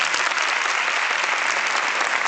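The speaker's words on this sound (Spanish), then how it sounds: "Aplauso contundente." Strong, dense audience applause at a session of an internationalization conference, steady and loud throughout without any gaps.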